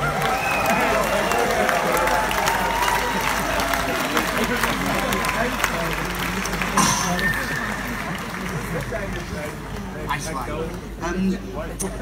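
A concert crowd at a show in Esslingen claps and cheers steadily for an encore, a dense wash of applause with voices mixed in throughout.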